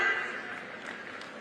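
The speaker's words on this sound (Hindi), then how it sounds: "जोरदार तालियां" Applause from an audience at a government grant ceremony, a dense, steady wash of clapping that fades slightly over a short stretch.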